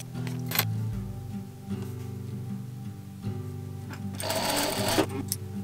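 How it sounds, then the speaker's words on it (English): A sewing machine stitches pieces of a black gingham hand-smocked dress together, running in a steady whirring stretch, pausing briefly, then starting again, close and fairly loud with a light clatter near the end. "I'm gonna go ahead and stitch these together"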